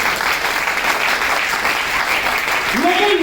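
An audience claps at a lecture in a dense, sustained round of applause, with a voice coming in near the end.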